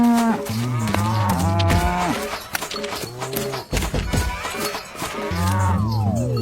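Buffaloes mooing on a farm, loud close drawn-out lows one after another with overlapping calls, some faint background voices.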